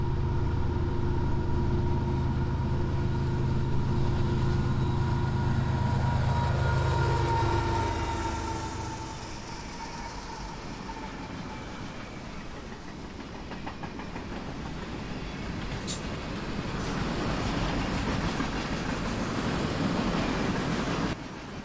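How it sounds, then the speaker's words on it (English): A Union Pacific freight train hauling Army equipment, including M777 howitzers and Joint Light Tactical Vehicles, rolls past in Tenino: a loud, sustained rumble that eases, then swells again into a broad rushing clatter as the cars go by. "here comes a Union Pacific train hauling Army equipment from Fort Collins, Colorado to Tacoma"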